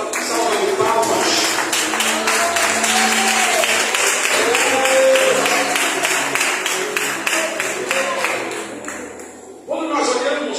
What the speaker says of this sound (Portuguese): adorando a Deus com a sua melhor salva de palmas